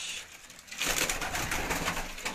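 Pigeons coo close by, with a rush of fluttering that swells after a quieter start.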